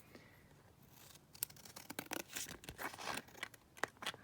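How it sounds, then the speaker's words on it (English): Scissors slice through handmade background paper in quick, uneven snips and crinkling rustles, faint and close, with short pauses between cuts. "So let's cut this one down."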